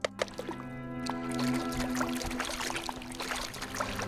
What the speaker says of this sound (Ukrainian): звуки тут, звісно, мощні. Це, походу, все складність в тому, щоб по воді ходити.